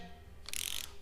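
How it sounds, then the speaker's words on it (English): Single short ratcheting burst from a torque wrench tightening a bolt on a forged 6G72 short block, a crisp clicking rattle in a quiet workshop, close and brief. "Then get your torque wrench."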